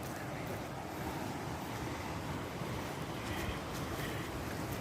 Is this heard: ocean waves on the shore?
yes